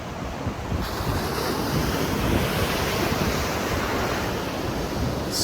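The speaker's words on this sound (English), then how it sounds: "some really, really, really nice waves out here this morning" Ocean surf breaks on the shore on a windy morning, a loud continuous roar of crashing and washing water with wind rumble on the microphone and no voices.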